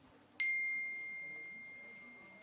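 A single phone message notification ding rings out clearly over a quiet room, its bright bell tone sustaining and slowly fading over the next two seconds.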